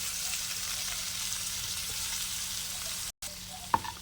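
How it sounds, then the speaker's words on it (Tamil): Curry leaves sauté in a pan with a continuous close sizzling hiss, broken by a split-second cut-out and followed by a small clink. "இந்த அளவு கருவேப்பிலை வதக்குனிங்கன்னா போதும்."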